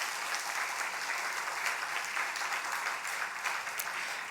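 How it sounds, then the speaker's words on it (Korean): A church congregation at an afternoon worship service breaks into sustained applause, an even, dense patter of many hands at moderate volume with no clear voices. "그리고 박수 좀 해주세요."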